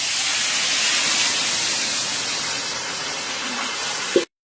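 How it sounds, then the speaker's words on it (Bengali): Small fish and water tipped into hot oil with radhuni spice, cooking for fifty people, give a loud, steady, broadband sizzle. It hisses evenly for about four seconds, then cuts off abruptly with a brief clatter. "তেলটা গরম হয়ে গেছে, এখন দিয়ে দিচ্ছি রাঁধুনি, দিয়ে দিচ্ছি মাছ, দিয়ে দিচ্ছি জল"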